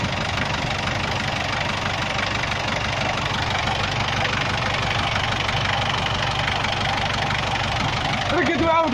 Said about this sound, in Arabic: وهذا صوت المحرك.